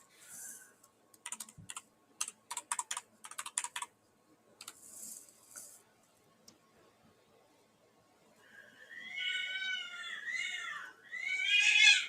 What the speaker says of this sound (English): It's two cats fighting, dude.